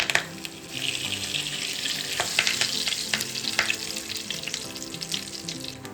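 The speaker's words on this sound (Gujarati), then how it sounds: "થોડી આપણે રાઈ એડ કરશું અડધી ચમચી આપણે જીરું એડ કરશું થોડી આપણે વઘારમાં હિંગ એડ કરશું અને મીઠા લીમડાના પાન" Mustard seeds, cumin, asafoetida and curry leaves spluttering in hot oil for a tempering, a busy sizzle dotted with sharp pops and crackles and a few stirring clinks, with no speech.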